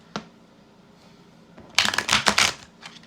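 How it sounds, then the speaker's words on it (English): Close, rapid riffling of tarot cards being shuffled, a brisk flurry of papery flicks after a single soft tap, no speech. "Give it a good shuffle"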